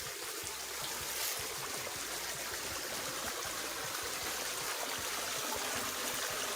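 A rain-swollen stream at Gold Head Branch State Park flows with a steady, soft rushing and trickling wash, continuous and fairly distant, with no talk.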